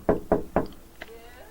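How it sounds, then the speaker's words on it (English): Three firm knocks on a door in quick succession, close and loud, followed by a faint light tap. "so I'm going to knock on the door."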